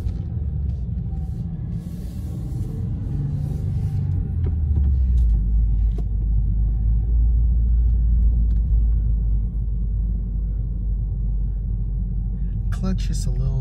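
A 2021 Subaru WRX base with manual transmission rolling slowly in second gear around a block at about 14 mph, heard as a steady low engine and road rumble from inside the car, with someone talking over it.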